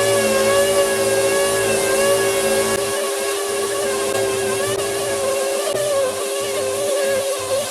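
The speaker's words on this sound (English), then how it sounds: "we're gonna rip some material off of here using 40 grit" Power sander with 40 grit paper stripping layered paint from a Camaro body part, a loud, continuous high whine with steady tonal hum and slight pitch wobble, close up and without talk.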